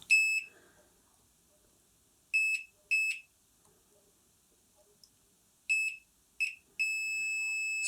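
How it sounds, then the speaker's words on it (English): A series of short electronic beeps from a multimeter continuity test on a Philips Reverbeo stereo, some brief and one held steady, with quiet gaps between them; no talking. "Let's put the beep on. We're looking for straight continuity."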